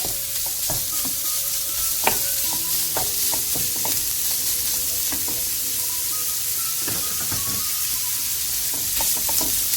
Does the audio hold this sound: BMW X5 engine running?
no